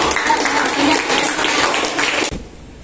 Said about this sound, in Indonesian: Applause untuk